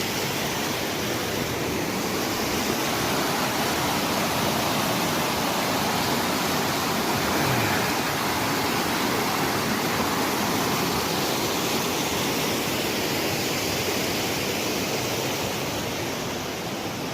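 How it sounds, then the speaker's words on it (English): Constant rushing roar of a river flowing over rocks in a gorge on a hike, broad and dense, steady and close with no voices. "Got the river"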